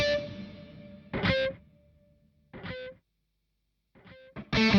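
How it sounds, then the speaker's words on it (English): Short bursts of distorted electric guitar are separated by silences, each note sliding in pitch with a swelling, gliding effect. "There is the glide that you are hearing right now."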